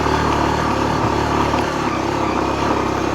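A motorcycle engine running under load on a rough off-road dirt track, a loud, close, steady mid-pitched drone with small rises in revs throughout, no talking.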